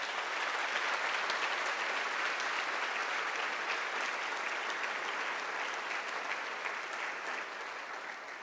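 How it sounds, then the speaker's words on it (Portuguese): A church congregation claps together in sustained, dense applause, steady and moderately loud for several seconds before easing slightly at the end, with no voices standing out. "Dá um aplauso bem lindo ao Senhor"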